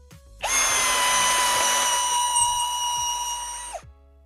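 An IMAX IMCD-20BL brushless drill winds up and runs at a loud, steady high whine for about three seconds while lifting a load of weights, then spins down abruptly.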